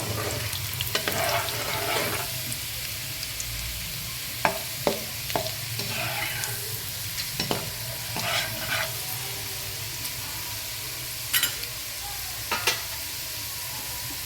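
Carrots and other vegetables fry in oil for a mixed veg kurma, giving a steady sizzle with scraping stirs and occasional clicks of a utensil against the pan.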